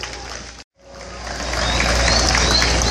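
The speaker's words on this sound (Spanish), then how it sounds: "fuerte aplauso para despedirlos." Farewell applause from an audience at an awards gala in Santa Marta, sending off African percussion performers; dense clapping swells after a brief gap and holds steady and loud, with crowd noise beneath.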